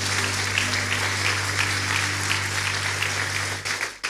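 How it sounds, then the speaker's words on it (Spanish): A church congregation applauds at a Sunday service, a loud, dense wall of clapping that holds steady throughout before easing off at the very end. "Dale fuerte los aplausos, porque Él es digno de ser alabado."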